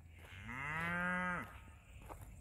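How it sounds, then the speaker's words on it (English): A cow on a farm gives a single long, drawn-out moo lasting about a second, fairly loud and near, rising and then falling away into faint outdoor background noise. "He says those cows are scary."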